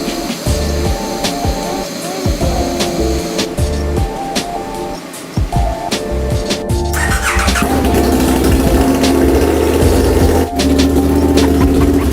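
Rebuilt chopper motorcycle engine cranking with a squealing starter, then catching and settling into a loud, steady idle close by, with no talk.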